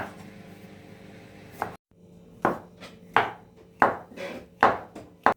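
Tomatoes chopped in half with a knife on a cutting board for pizza sauce: five sharp, evenly spaced chops close by after a quiet stretch of soft kitchen noise, with no voices.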